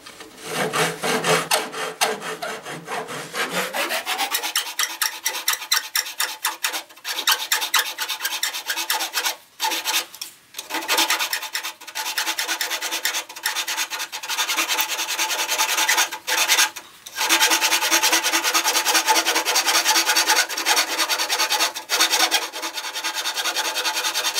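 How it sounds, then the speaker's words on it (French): A small hacksaw rasps steadily through wood in quick back-and-forth strokes, close and continuous, with a few brief pauses between runs. "pour être capable de travailler avec ma petite scie à métaux"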